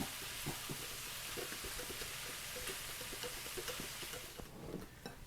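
Minced garlic stirred in a skillet, a close, even sizzle of frying with quick repeated spatula scrapes that fades slightly toward the end, no talking.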